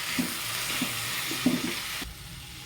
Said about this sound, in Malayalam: അതൊന്ന് ഒഴിച്ച് കൊടുക്കണം നല്ലോണം മിക്സ് ചെയ്യാം